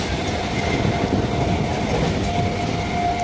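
A passenger train runs steadily on rails toward Bardhaman in India, with a continuous loud rumble and rattle of the carriages and a faint wheel whine, heard from inside the coach with no talk.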